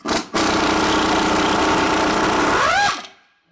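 Impact gun working on a stubborn Loctite-coated bolt during a Toyota Land Cruiser 100 Series teardown, one loud, sustained buzzing hammer burst lasting about two and a half seconds that winds down at the end.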